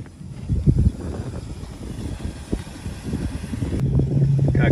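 A low, steady Bayliner boat engine, running without its engine cover, rumbles close by, idling evenly with a faint mechanical hum throughout.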